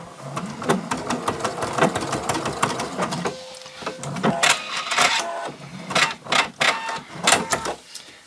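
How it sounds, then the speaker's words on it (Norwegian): Sewing machine stitching a tiny seam in fabric, a close, rapid mechanical whirring and clattering with a steady stitch rhythm, pausing briefly before starting again in short bursts. "nå syr jeg en pitteliten søm som bare kommer til å gå inn i det øverste sømmene"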